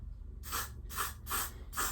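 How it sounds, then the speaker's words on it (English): Four short bursts of aerosol spray hiss in a steady rhythm during a curly hair wig install, close to the listener, with brief quiet gaps between each spray. "I think it makes it so much easier to just spray it on."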